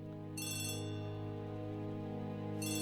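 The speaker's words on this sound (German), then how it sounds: "Oh, Telefon!" Telephone ringing in the 2017 PC video game Agatha Christie - The ABC Murders: two bright electronic ring bursts, one near the start and another at the end, over a steady tonal music bed.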